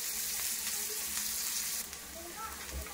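Onion and turmeric frying in hot oil in a home kitchen make a steady, close sizzle, with faint stirring and clinks toward the end.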